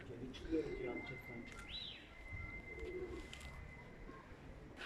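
Faint pigeon cooing carries from a distance over a hushed outdoor background, with a brief whistle-like tone partway through.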